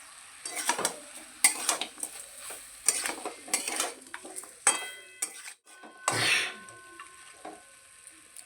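Pumpkin greens curry being stirred in a pan, repeated uneven scraping and clinking of a spatula against metal over a faint sizzle, with brief pauses between strokes.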